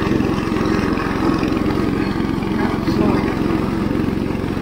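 An IH Cub Cadet 149 hydrostatic garden tractor with dull mower blades cutting heavy barnyard grass, its engine a steady, close, rumbling drone under load throughout.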